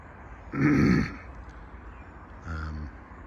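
A man clears his throat outdoors by a fishing lake, one harsh rasping burst followed by a shorter, softer voiced throat sound a moment later.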